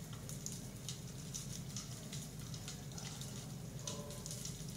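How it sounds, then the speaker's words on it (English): Water drips and trickles onto coal in a quiet meditative space, a soft continuous patter with faint irregular drops, low and close. "allow yourself to enjoy the sound of the water dripping on the coal"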